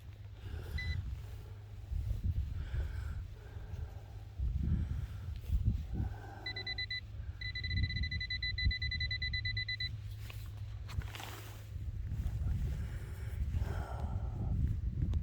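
A handheld metal detector searching ground during a dig gives a steady, sustained electronic beeping tone lasting several seconds, heard over wind and outdoor rustling noise, with no talking.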